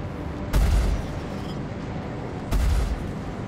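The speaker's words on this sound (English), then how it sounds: "Oh, they do pack a punch, these tarantula weapons." Tarantula ship weapons firing in the Star Citizen space game, with two heavy booming bursts about two seconds apart over a steady dense rumble.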